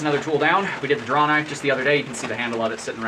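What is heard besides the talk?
No distinct noise like a dog, phone or traffic.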